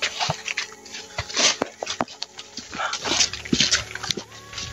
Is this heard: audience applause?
no